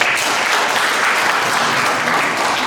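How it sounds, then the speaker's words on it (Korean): A church seminar audience breaks into applause, a dense, even wash of many hands clapping at steady loudness throughout the short stretch. "우리 박수를 좀 격려해주세요."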